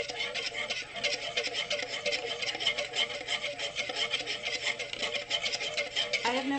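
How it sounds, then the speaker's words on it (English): A whisk works eggs in a bowl for hollandaise sauce, a continuous fast scraping rattle that runs steadily and fairly loud through the whole stretch without pause. "We're going to keep whisking. We need to whisk continuously."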